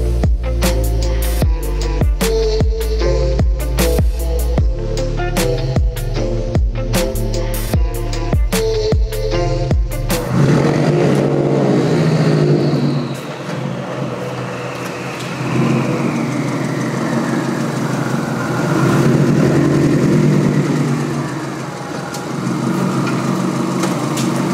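A loud Subaru car engine idles with a deep, throbbing rumble, then steadies into a rougher, lower drone that swells and eases over time.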